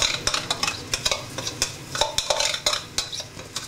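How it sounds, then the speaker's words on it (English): Onion and garlic paste fries in about a tablespoon of hot oil in a wok, a loud close sizzle broken by frequent sharp scrapes and clinks of a utensil stirring against the metal. "Into about a tablespoonful of oil, I'm putting the onion and garlic mixture."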